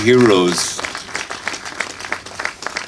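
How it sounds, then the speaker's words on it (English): An audience at a memorial photo exhibition opening breaks into steady clapping that rises after a speaker's voice, continuing as a sustained patter of applause. "Yes, you can applaud"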